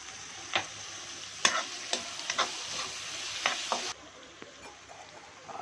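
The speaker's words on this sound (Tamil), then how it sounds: "வெங்காயம் கருவேப்பிலை பச்சை மிளகாய் எண்ணெயில் போட்டு நல்லா புளிஞ்சு எடுக்கலாம் புளிஞ்சு இல்லை வறுத்து எடுக்கலாம்" Onion, curry leaves and green chili frying in hot oil, a steady sizzle broken by several sharp stirring clicks and scrapes of a spoon against the pan, close by, with the sizzle dropping quieter near the end.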